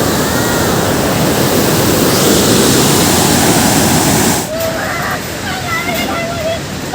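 Loud, steady roar of river water rushing through Qadirabad Barrage on the Chenab, a dense continuous wash close by, thinning slightly after a few seconds as faint voices and a high tone come through.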